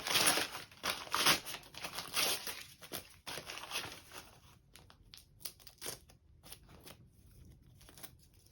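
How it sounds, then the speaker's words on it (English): Embroidery stabilizer torn away from the inside of a turned-out sweater, a run of close, dry crinkly rips and rustles, busiest at first and then thinning into scattered short tears, with no talk. "Take all the stabilizer off."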